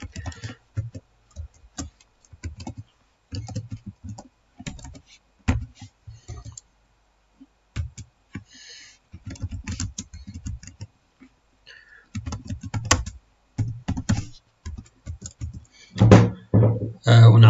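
Keys clatter on a computer keyboard as a program is typed, irregular bursts of close clicks with short pauses between them.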